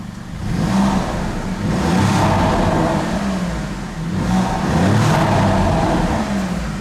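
A car engine in a pit box revs repeatedly in rising and falling surges, loud and close, with a steady idle rumble between the blips and no talking.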